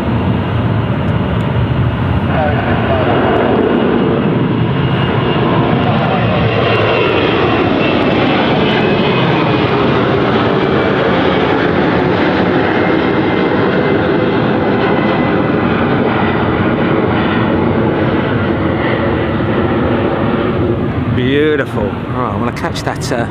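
Dash 8 turboprop taxiing at London City Airport, a loud continuous propeller and engine drone with shifting pitch filling the whole stretch, close by and steady.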